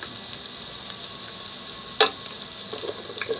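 Garlic dropped into hot oil in a pan, giving a steady soft sizzle with one sharp crackling burst partway through, then low continuous frying.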